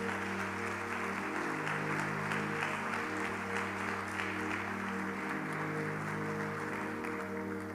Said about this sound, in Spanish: Denle un aplauso bien fuerte a ese Jesucristo